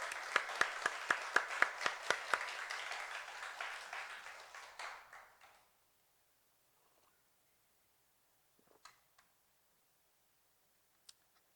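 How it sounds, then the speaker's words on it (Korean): A church congregation at a summer night prayer meeting claps in a quick rhythmic burst of applause that fades out after about five seconds, followed by near silence with a few faint scattered clicks. "우리 예수님께 우리 영광의 박수로 영광 한번"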